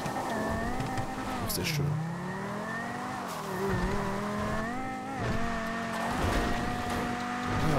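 Car engine in Grand Theft Auto V Online driving through Los Santos, revving with rising and falling pitch and brief tire squeals, while someone talks over it.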